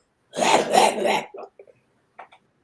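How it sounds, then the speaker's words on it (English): A woman in a store coughs, a harsh, rasping cough bursting out loudly, followed by a few softer short hacks and a faint trailing cough. "This woman in there coughing."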